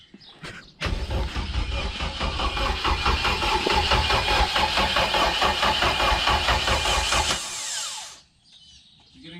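A Honda K20 engine swapped into an EF hatchback cranks and fires, then settles into a loud, steady, rough idle close by for several seconds before cutting out, with no talk over it.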